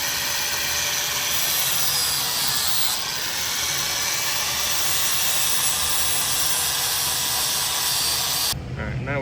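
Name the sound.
grinder beveling steel plates for welding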